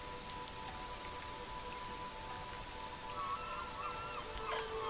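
Rain falls steadily outdoors, a continuous dense patter on surfaces at moderate loudness throughout, with no voices.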